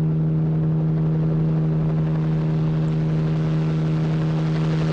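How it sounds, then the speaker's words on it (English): Steady helicopter rotor drone in the horror video game Corpse Party: Blood Drive, a constant loud hum with strong low tones that holds unchanged throughout, with no voices over it. "Why is there a helicopter?"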